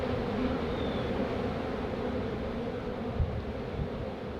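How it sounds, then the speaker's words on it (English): Steady, dense buzzing of many agitated winter honeybees at an open hive, loud and close, continuing without pause, with a few soft low bumps near the end. "So these bees are not happy for sure."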